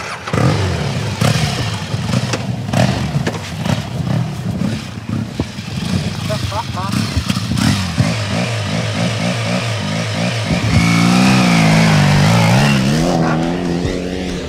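Yamaha Super Tenere adventure motorcycle engine revving and pulling around a track, a steady loud engine drone with rising and falling pitch shifts through gear changes, running continuously throughout.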